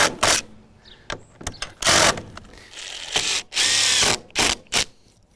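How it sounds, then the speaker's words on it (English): A power drill driving screws into existing pressure treated lumber on a shed build, several short whirring bursts of varying length, close and loud, separated by brief pauses with small handling clatter. "I'm just screwing right into the existing pressure treated lumber."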